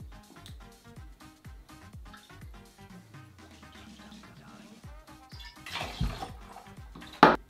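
Dark rum poured into a cocktail shaker for a Hurricane cocktail, a steady liquid trickle with soft clinks, ending in a louder splash and sharp knock near the end.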